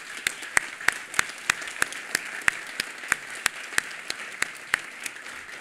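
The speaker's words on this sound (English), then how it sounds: "I just want to end with a round of applause for all of the students in the class" Slow, sparse clapping at a university video game demo session as the class is applauded, sharp individual claps spaced out in a loose irregular rhythm, moderately loud in a fairly quiet room.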